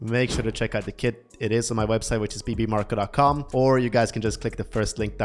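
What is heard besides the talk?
No distinct noise like a dog, phone or traffic.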